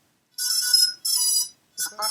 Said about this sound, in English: save these parameters using the right setting button, we will hear a different tone